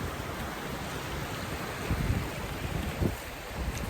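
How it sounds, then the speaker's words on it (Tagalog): Strong open-sea waves at a beach resort in Northern Samar surge in a continuous rushing roar, with gusty swells building and breaking close by. "Medyo malakas lang yung alon."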